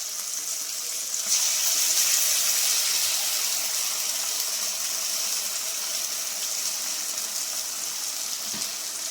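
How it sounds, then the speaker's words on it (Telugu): Water is poured into a pan of masala for Andhra chicken curry: a steady, close gushing splash that runs continuously, with no talking. "కొంచెం దాంట్లో వాటర్ పోసేసుకొని"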